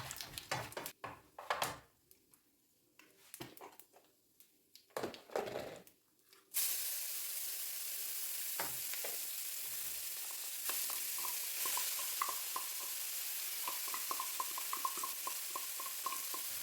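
Cumin seeds with cloves and cardamom frying in a pan, first a few scattered sounds, then a steady soft sizzle that keeps going with small pops and crackles.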